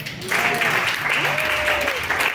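A church congregation breaks into loud, sustained applause and cheering, a dense wash of clapping with a voice gliding over it during a French-language sermon.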